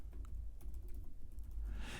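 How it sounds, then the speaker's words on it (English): Keys tapping on a Microsoft Surface Laptop Go 2 keyboard in quick, steady typing, close up and fairly quiet, with no voices. "the keyboard on here is actually really good"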